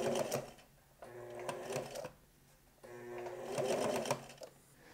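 Sewing machine stitching a bomber jacket in two bursts of rapid, steady stitching separated by a brief pause, close and fairly loud with no voices.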